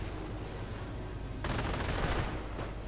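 Rifle and machine gun fire in a World War II strategy game match, a steady crackle of distant shots that grows into a denser, louder burst of gunfire halfway through.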